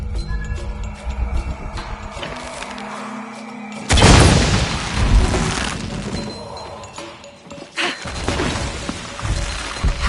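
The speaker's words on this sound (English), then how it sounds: "Have to create an explosion." An explosion in the video game Shadow of the Tomb Raider, a sudden loud boom with shattering, crashing debris partway through, set among game ambience and smaller cracks and thuds.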